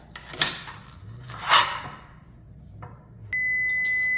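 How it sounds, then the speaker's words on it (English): A kitchen timer starts a steady electronic beep near the end, after a couple of soft clattering knocks from someone working in a home kitchen. "and that's just my timer"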